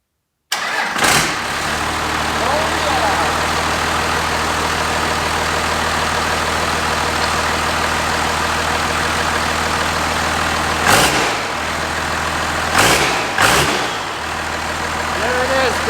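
A Cummins diesel swapped into a 1967 Ford F-250 starts for the first time: a brief crank catches, then a loud, steady, close diesel idle clatters on, with a few revs that swell and fall back.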